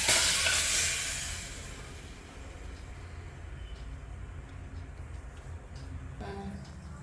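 Butter melting into ghee in a pan over low heat gives a soft, steady sizzle and bubbling, louder at first, then settling into a quiet, continuous simmer.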